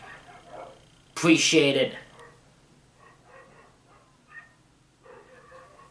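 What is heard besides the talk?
dog barking next door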